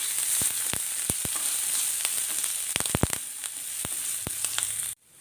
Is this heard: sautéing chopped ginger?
yes